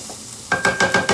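Sichuan chilies, ginger and garlic sizzle in hot oil as a spoon stirs them in five rhythmic scrapes, close and fairly loud, with no one talking.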